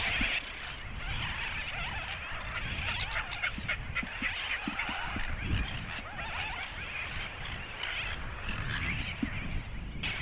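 Seabird colony on Diamond Islet Sand Cay, with red-footed boobies nesting and frigate birds nearby, heard as a dense, steady wash of overlapping calls and squawks lasting the whole time, with no speech.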